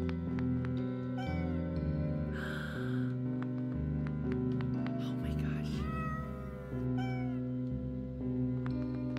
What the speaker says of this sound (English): That is a kitty noise.